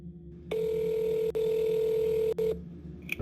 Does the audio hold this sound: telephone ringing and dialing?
yes